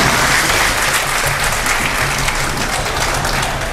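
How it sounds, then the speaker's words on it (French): An audience applauds at a corporate celebration event, dense sustained clapping filling the room, loud and close, with no voices over it. "Vos applaudissements."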